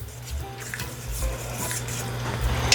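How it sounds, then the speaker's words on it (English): A spoon works through thickened chicken sauce in a Dutch oven, giving soft, steady scraping and clinking against the pot under a low background hum, close and moderately loud throughout. "Let's give it a stir"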